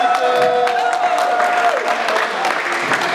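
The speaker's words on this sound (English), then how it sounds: "Can we clap for him, please?" An audience applauds Governor Obiano during a tour of Anambra airport. The clapping is loud and sustained, with crowd noise and a faint steady tone running through it.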